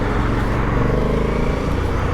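A deep, steady V-twin engine rumble from a 2021 Aprilia Dorsoduro motorcycle runs throughout, loud and close, with a low uneven burble as it cruises.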